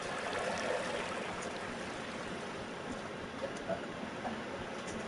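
A small waterfall and stream flow steadily in a PS4 video game, a soft continuous rush of trickling water, fairly faint and even throughout.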